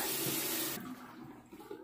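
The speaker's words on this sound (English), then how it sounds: "I was just rinsing the rest of the balm off my hands because I got too much out of the little package there" Water runs from a tap as balm is rinsed off hands at a sink, a steady loud hiss that breaks off sharply partway through, leaving quieter splashes and dripping.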